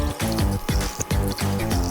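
Aquarium water is poured into the plastic bag holding new fish, a close, continuous gurgling trickle with bubbling pulses throughout.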